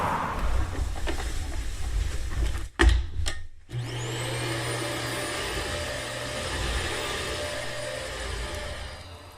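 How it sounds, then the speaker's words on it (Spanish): A vacuum cleaner drones behind a door, muffled but loud. A few knocks and a brief drop come first, then a steady, unbroken whine holds to the end. "la aspiradora de la señora Bird zumbando al otro lado de la puerta."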